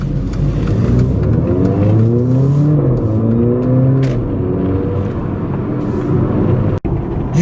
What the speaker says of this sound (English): even if I did some accelerations, the exhaust would be a lot quieter on the inside and the outside